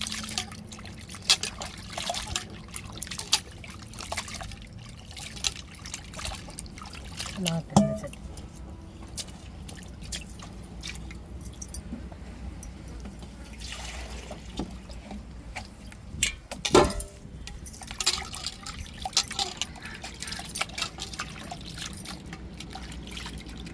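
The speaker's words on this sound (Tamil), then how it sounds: "எல்லா ராலையுமே நம்ம உரித்து எடுத்துக்கிட்டாச்சு நல்லா அலசி எடுத்துருவோம்" Peeled prawns are rinsed in water by hand, giving soft continuous trickling and sloshing with occasional splashes and clinks, fairly quiet, with a voice talking over it.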